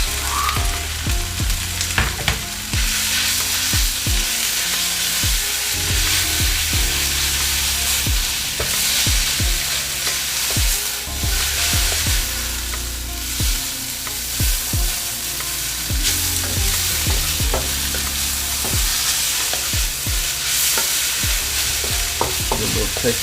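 Noodles for brisket lo mein sizzle and fry loudly in a hot pan, stirred and tossed with repeated scraping clatters throughout, with no speech.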